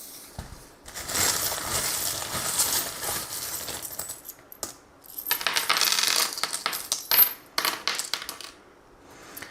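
Small metal charms cast for a divination reading, tumbling and clinking together in several rattling bursts, close and fairly quiet, with brief pauses between throws.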